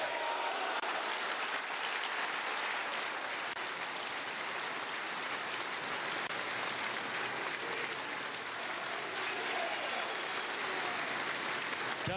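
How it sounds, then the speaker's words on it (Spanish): A large rally audience in Bolívar, Venezuela, applauds in homage to Hugo Chávez, a sustained, even wash of massed clapping that carries on steadily without a break, heard from some distance. "Yo quisiera que rindiéramos con un nutrido aplauso, un sincero homenaje a nuestro comandante presidente Hugo Chávez."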